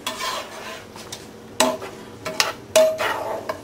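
A spoon scrapes and stirs chicken empanada filling in a hot pan, with a steady sizzle and several sharp utensil knocks against the metal, close and loud with no talking.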